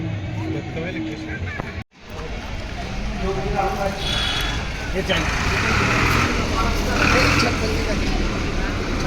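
Road traffic along a street near Gautam Talav in Trimbak, Nashik, heard while walking: a continuous nearby rumble of passing vehicles with a brief dropout, under background voices.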